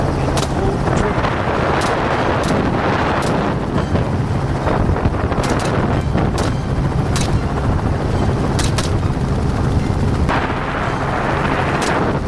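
Constant heavy helicopter rotor noise mixed with strong wind buffeting during a wild boar hunt, close and loud, with scattered sharp gunshot cracks cutting through.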